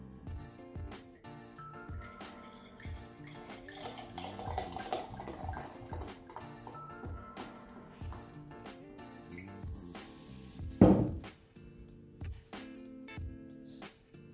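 Homemade saison farmhouse ale poured from a bottle into a glass, with irregular liquid splashing and glugging, a few sharp clinks, and a brief louder gush near the end, close and fairly quiet.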